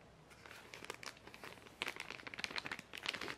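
Crinkly plastic sticker packaging handled during an unboxing, close and fairly quiet, with irregular bursts of crackling and rustling that grow busier toward the end.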